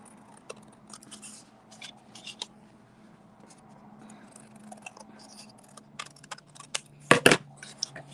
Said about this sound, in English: So I'll get my scissors and I'm just going to snip that off.